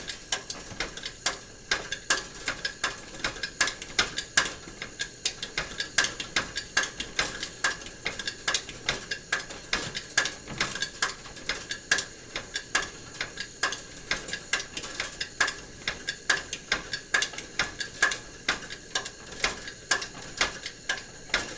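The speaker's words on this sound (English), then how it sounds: "Pumping the air in to keep that flame supported as it heats up the generator tip." Hand pump pressurising a 1938 Primus 77 paraffin stove, a steady run of quick mechanical clicks and squeaks repeating at an even rhythm, close and fairly quiet, with no voices.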